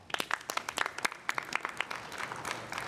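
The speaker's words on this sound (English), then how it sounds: "Please give us a round of applause." Scattered clapping from a modest audience at a student diplomacy speech contest: distinct individual claps ring out in an uneven rhythm, then thin into a softer patter, fairly quiet overall.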